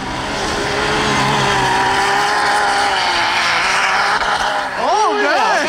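Car on snow tires revving hard and shifting while driving through snow, a loud continuous engine drone whose pitch climbs and drops, with a quick rev sweep near the end and voices faintly over it.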